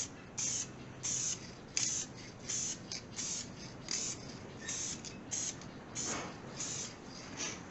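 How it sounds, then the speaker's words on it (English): Aerosol spray paint can hissing over a spot rust repair on an AMC Gremlin, a series of short bursts of spray with brief pauses between them, faint and close. "But we're going to spray it out."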